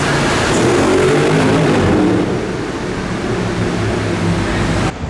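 A supercar's engine drones loud and steady and echoes off the walls of a tunnel, with a fuller rumble near the start and a sudden drop at the very end.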